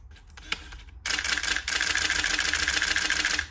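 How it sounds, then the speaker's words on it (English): A Nikon F5 film camera firing its shutter in continuous shooting: a single click, then a fast, steady burst of rapid mechanical shutter clatter running for over two seconds, close and fairly quiet. "You hear the difference on the continuous shoot of that?"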